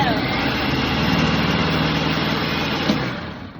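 An electric food processor shreds zucchini with a steady, loud motor whir and dense grinding that holds constant, then fades slightly at the end.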